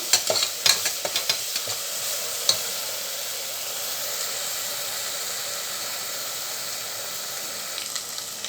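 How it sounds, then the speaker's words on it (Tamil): Onions with ginger garlic paste sauté in a pan for mutton biryani, giving a soft steady sizzle and hiss with a few stirring clatters at the start, no voices. "சேர்த்துட்டு இது நல்லா வதங்கி வரட்டும்"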